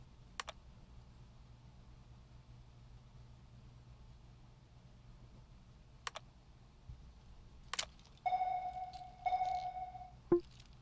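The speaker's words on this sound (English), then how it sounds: "I used a sonar thing to try to find you." Electronic sonar pings in a naval ship battle video game, a couple of short tonal beeps near the end after scattered quiet clicks over a low hum, fairly faint overall.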